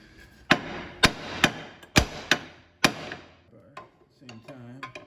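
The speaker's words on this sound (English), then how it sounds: "we just gotta give it a couple taps on the knuckle because we're gonna try to save this ball joint" A big hammer knocks on a Mazda Miata steering knuckle to free the ball joint: about six sharp metallic strikes spaced roughly half a second apart, then softer clattering of metal parts.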